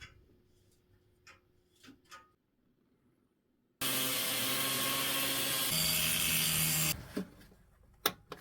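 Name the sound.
removing bolts from bent angle iron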